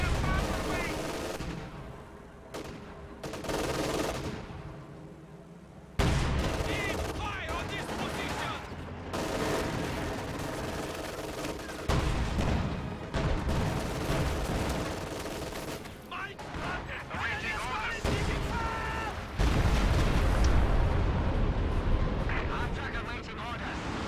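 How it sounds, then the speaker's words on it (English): Battlefield din in a World War II real-time strategy game with Soviet T-34s, AT guns and B4 howitzers: sustained crackling gunfire, machine-gun bursts and booming artillery shell impacts, continuous and dense, with a commentator talking over it. "That lonely shell sailing through the air. Is that bunker busting barrage?"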